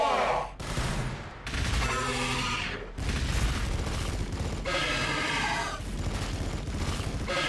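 Warhammer 40,000: BattleSector battle: dense bursts of automatic gunfire and heavy booming shots in quick succession, loud and continuous with brief gaps between volleys.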